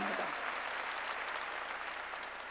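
Congregation in a Korean church service breaking into sustained applause, a steady, dense clapping that carries on for a couple of seconds at moderate volume without voices over it.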